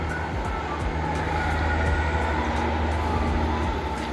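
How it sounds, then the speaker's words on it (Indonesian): Morning ambience at Rangkas Bitung train station, a loud steady rumble of a train with a low engine drone and faint rhythmic clatter, continuous and close, with no voices heard. "Dan inilah suasana stasiun Rangkas Bitung di pagi hari ini"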